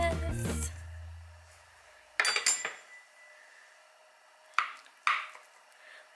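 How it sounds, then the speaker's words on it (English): Utensil scraping and clinking against a baking dish while baked chocolate cherry oatmeal is sliced, a few separate short scrapes and clinks with quiet pauses between them. "our oatmeal has cooled a little bit, so I'm just gonna slice into it."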